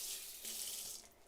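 A pan is washed at a kitchen sink with the scrubby side of a sponge. Quiet running water and splashing hiss go on without a break, with no talking.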